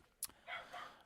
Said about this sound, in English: There's a dog next door that's barking up a storm.